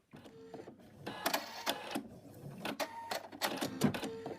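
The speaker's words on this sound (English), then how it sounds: "It's now going to stitch out the outline of the muzzle." An embroidery machine stitches out the outline of a moose muzzle on fabric, a close mechanical whirr of rapid needle strokes that runs on with short pauses and bursts of faster stitching.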